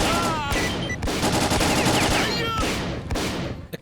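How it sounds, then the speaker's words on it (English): Rapid volleys of shotgun fire from a first-person shooter video game, with dense overlapping blasts and clattering impacts running continuously at close, loud level. "All 5 shotguns in the game feel floaty light to shoot and seriously lack impact."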